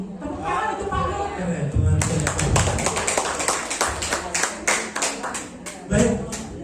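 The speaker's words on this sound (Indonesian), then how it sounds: "Tepuk tangan untuk Pak Nuk." Audience applause for a speaker at a school Positive Culture module presentation, many hands clapping densely after the first two seconds, with voices talking over the start.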